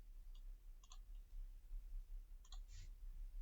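Sharp mouse clicks in Creo CAD software, a couple of faint paired clicks spaced apart over quiet background, close and soft.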